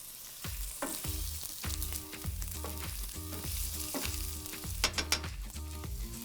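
Green onion frying in a pan for a lamb and eggplant dish, a steady close sizzle with rhythmic stirring scrapes roughly every half second and a few sharper clinks near the end.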